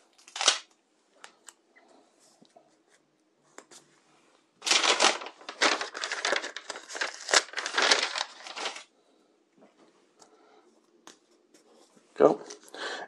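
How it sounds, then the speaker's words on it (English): Tape is pulled and pressed down over a paper sewing pattern for a princess-seam bodice front, giving a short crinkle, then a louder stretch of rustling and crackling from about five to nine seconds and a final rustle near the end. "And I'll just tape that down."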